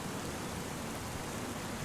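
Steady rain falls in Farming Simulator 25 as a soft, even patter of drops with no break, fairly quiet and without voices.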